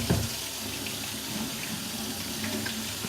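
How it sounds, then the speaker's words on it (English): Tap water runs steadily from a faucet into a sink while soap is rinsed off hands in a home kitchen, a continuous close splashing stream with a brief knock at the start. "Gotta rinse off the soap too."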